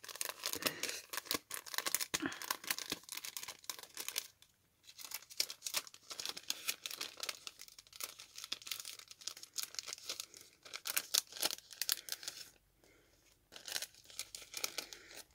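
A mail envelope of birthday post is torn open by hand: close, crisp bursts of ripping and crinkling paper come in quick irregular clusters, with short quiet pauses between them.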